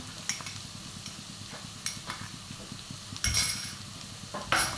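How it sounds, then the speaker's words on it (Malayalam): Ginger and garlic sauté in a hot pan for chicken mappas, a steady close sizzle broken by several sharp scrapes and clinks of a spoon against the metal. "ഇപ്പോൾ ഇഞ്ചിയും വെളുത്തുള്ളിയും ചേർത്ത് ചേർത്തെടുക്കാം"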